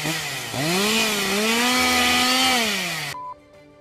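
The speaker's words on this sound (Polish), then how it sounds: "Przycinam pręt" A power tool cuts through a threaded rod with a loud, steady, high-pitched whine whose pitch rises and dips as it bites for about three seconds, then cuts off abruptly.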